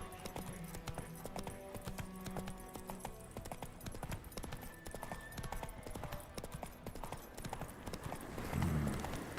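Horse hooves clip-clop steadily at a trot in The Witcher 3, a constant rhythmic clatter heard over game ambience and music, with a brief louder burst near the end.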